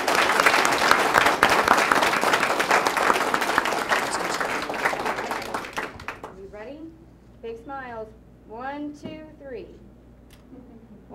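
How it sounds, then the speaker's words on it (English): Audience applause fills a board of education meeting honoring student artists, steady dense clapping for about six seconds before fading out, followed by close speech. "Ladies and gentlemen, would you join me in another round of applause for these artists?"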